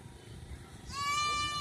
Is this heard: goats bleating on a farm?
yes